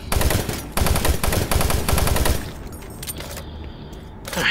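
Rapid, loud machine gun bursts from the video game Doom 3, a dense stream of shots for about two seconds that tapers into quieter rattling and game ambience.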